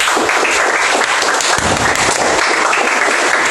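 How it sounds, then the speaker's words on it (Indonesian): A class claps loudly and close by during a computational thinking lesson, with dense, rapid applause that stays steady for a few seconds. "Oke, tepuk tangan"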